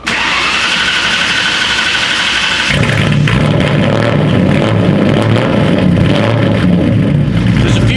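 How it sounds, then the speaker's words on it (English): A starter whirs briefly, then a Ford Mustang V8 engine catches and settles into a loud, lumpy, rumbling idle close by, with no voices. "I like the sound of the V8."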